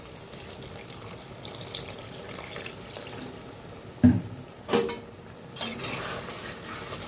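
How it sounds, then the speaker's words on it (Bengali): A little water is poured into a pan of shilguria fish curry, a brief splashing pour over faint kitchen background, with a couple of soft clinks nearby. "অল্প পরিমাণে জল দিয়ে দিই"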